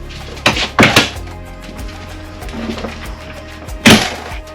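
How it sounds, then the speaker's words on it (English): An RV door thuds open and shut a few times, sharp knocks with rattling, fairly close, with quiet pauses between. "This door is pretty loud and makes a decent amount of noise when you open and shut it."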